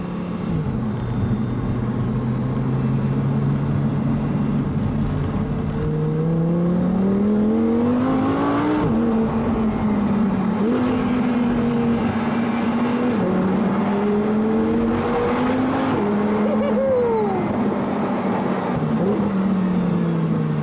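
A convertible car driven with the windows down at full throttle, its engine note climbing and dropping through repeated gear changes, loud and steady with wind noise underneath.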